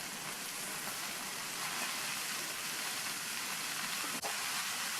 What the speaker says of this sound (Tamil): முட்டைக்கோஸ் சேர்த்ததுக்கப்புறமா எண்ணெயிலேயே நல்லா பிரட்டி விட்டுக்கணும்.